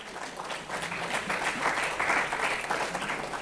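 A church congregation applauds during a Sunday worship service, giving steady, full clapping from many hands that holds at an even level for a few seconds.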